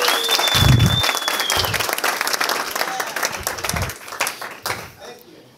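Audience applause after a call to give themselves a round of applause at a GanoLife opportunity meeting, a dense burst of clapping that swells then thins out over several seconds, with a voice speaking over it.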